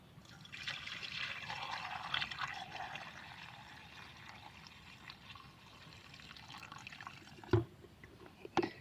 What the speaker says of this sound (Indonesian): Nah, kita tuang di sini, ini sudah ada airnya.